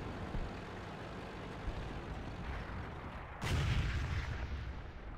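Tank cannon fires in World of Tanks during a random-team battle with an Object 268: a single heavy boom cuts in partway through, over a steady engine and battlefield drone.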